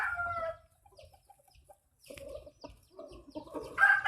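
A gamecock at a rural Philippine fowl farm gives short clucks and a brief crow, the calls coming in scattered bursts with quiet gaps between them, and a closer, louder call at the end.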